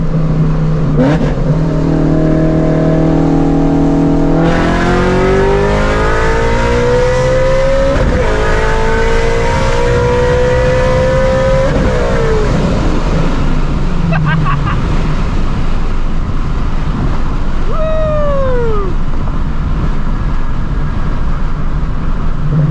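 A 900hp Shelby GT350 accelerating hard, its loud, close engine climbing through several gears with sharp shifts, then a few high revs and pops over steady road noise.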